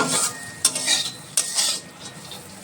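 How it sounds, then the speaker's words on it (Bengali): Steady sizzle of cashews and raisins frying in a new pan, with a spoon stirring and scraping, a few sharper clinks standing out over the continuous hiss. "এখন কাজু কিশমিশ ভাজছি"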